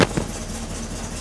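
An early V8 engine, freshly converted from points to electronic ignition, catches with a sharp burst and then settles into a steady, close idle running on its own.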